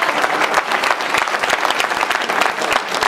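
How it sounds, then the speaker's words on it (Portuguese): A church congregation applauds the Lord: dense, steady clapping from many hands fills the room at even loudness throughout, with no voices rising above it. "Aplauda o Senhor"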